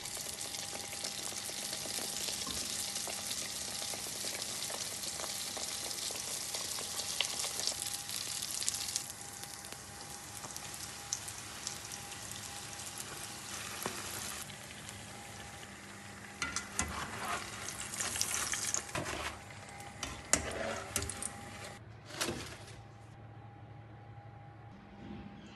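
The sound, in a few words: baursak dough frying in hot oil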